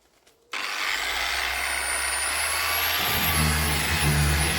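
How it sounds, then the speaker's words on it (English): A dual-action sander fitted with a 240 grit disc runs steadily across a car bonnet being prepared for respray, starting abruptly after a brief quiet moment and holding a loud, even whir with a deeper tone shift near the end. "240 grit disc in the DA, look. Just give her a sand."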